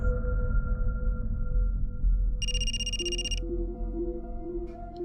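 A telephone rings in a Crime Patrol drama scene, one bright electronic trill burst lasting about a second over a steady low musical drone, with fainter tonal blips following.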